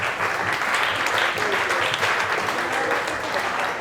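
Audience applause at a gathering in Taipei, continuous dense clapping from a crowd, steady and fairly loud throughout, with faint voices underneath.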